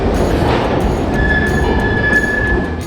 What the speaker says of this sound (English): This is the M1 metro, the oldest metro on Europe's mainland.